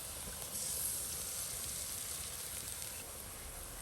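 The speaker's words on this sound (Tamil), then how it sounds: "கறித்தூள் நல்லா வதங்கிடுது இதை மூணு முட்டையை அதுக்கு ஊற்றுவோம்" Three eggs poured into a pan of sautéed curry powder and turmeric give a faint, steady sizzle and hiss that holds evenly for a few seconds with no talking.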